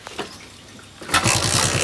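A rain-wet motorcycle engine cranks and then catches, settling into a loud, close, rapid putter after about a second of quiet.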